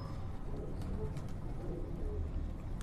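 Breeding pigeons coo softly in a loft, low rounded calls repeating under a steady background hum.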